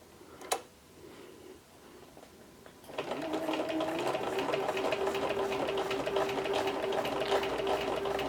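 Sewing machine with a standard presser foot stitching vegan leather backed with fabric, starting after a quiet pause with a sharp click, then running steadily and fairly close with a fast even whirring rhythm, no talking.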